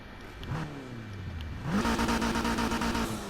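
Polestar One with the stock 2-litre inline-four hybrid engine in Need for Speed Heat revs up in two rising pulls, then holds a steady buzzing tone, close and moderately loud.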